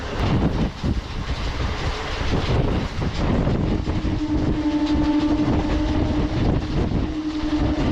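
A MEMU passenger train running between Vijayawada and Bhimavaram gives a loud, steady rolling rumble with rail clatter throughout, and a sustained droning hum rises over it in the second half.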